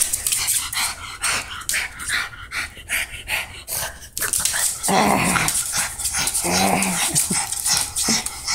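A dog growls, pants and whimpers playfully, then lets out a few short barks amid scuffling movement, close up.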